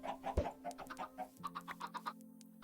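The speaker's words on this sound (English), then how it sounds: "Better play the chicken sound at the end." A chicken clucking sound effect plays during a Minecraft livestream, with a run of short, evenly spaced clucks over a steady low hum, plus one louder thump near the start.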